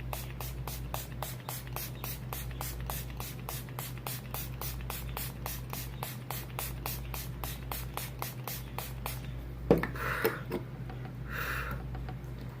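Milani Make It Dewy setting spray is pumped toward a face in fast, evenly spaced spritzes, dozens of short bursts in a row, followed by a pause and a couple of softer sprays, close and fairly quiet, with no voices.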